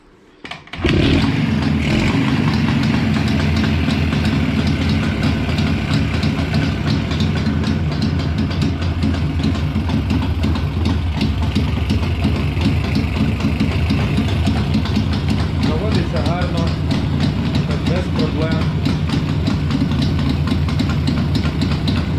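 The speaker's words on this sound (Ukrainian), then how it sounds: "Давайте заведемо, як заводиться вона." A Jawa 638 motorcycle engine starts with a sudden roar and then idles loudly and evenly, a steady close-up chugging with no talk.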